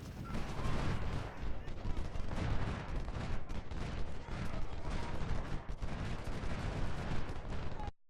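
Artillery and musket fire in Ultimate General: Civil War at the battle of Corinth, a continuous loud battle din of overlapping booms and crackling volleys lasting about eight seconds, then cutting off abruptly.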